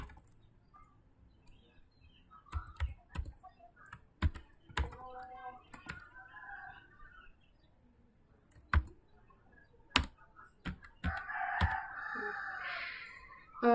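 Keys clack on a computer keyboard in irregular bursts while a program is typed in, with scattered sharp clicks and a few louder key strikes, close by; faint background sounds and brief murmurs appear between the taps.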